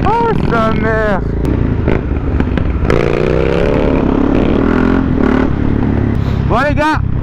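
A customized Harley-Davidson motorcycle with Deadpool-themed styling runs nearby, its engine droning and revving steadily throughout, while voices talk briefly over it at the start and end.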